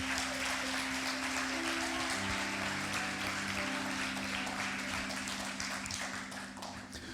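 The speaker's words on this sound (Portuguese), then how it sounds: "Você pode dar um forte aplauso ao Senhor?" A church congregation applauds the Lord in a steady, continuous wash of clapping over a sustained organ-like musical tone, holding level before easing off slightly at the end.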